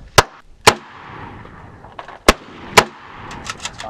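Four sharp, loud gunshots from a large-caliber gun ring out at uneven intervals, each a sudden crack, with softer faint pops trailing near the end.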